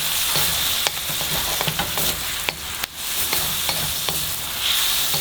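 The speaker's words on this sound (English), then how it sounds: "Now I'm going to mix everything together." Ramen noodles with onion, carrot and pepper are stir-fried in a hot pan, giving a loud constant sizzle broken by repeated clacks and scrapes of stirring.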